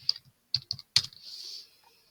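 Keystrokes on a computer keyboard as a product reference is typed, a quick burst of sharp clicks, then a short pause and two more close bursts, followed by a soft rising hiss; near and clear with no talk.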